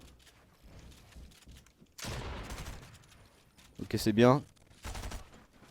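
Automatic shotgun fire in a Fortnite solo cash cup match, a few sharp gunshot bursts amid in-game noise with a loud burst near the end, under a man's brief speech.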